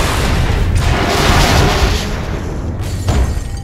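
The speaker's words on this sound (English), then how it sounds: "Possible laboratory break-in confirmed by big explosion." A big, loud explosion booms in the Lego Marvel Super Heroes video game inside a laboratory, a sustained roaring blast with rumbling debris and a second burst near the end.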